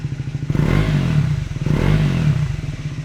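A Triumph Scrambler 400X fitted with a Yoshimura GP-Magnum titanium exhaust revs twice in quick succession, each blip rising sharply from a steady idle and falling back, loud and close with a gruff, rumbling tone.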